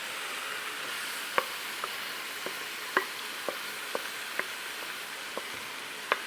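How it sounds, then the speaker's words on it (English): Seasoned oxtail stirred into hot curry paste gives a soft steady sizzle with a string of sharp utensil taps and scrapes at irregular intervals, quiet and close with no talking. "we're just going to add in our seasoned oxtail"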